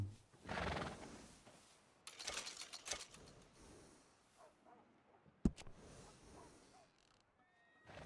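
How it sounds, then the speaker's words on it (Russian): A horse in the Red Dead Redemption 2 video game whinnies loudly near the start, followed by snorts, hoof clip-clops and scattered small clicks and thuds, all fairly quiet and without speech. "Лошадь по имени Джек."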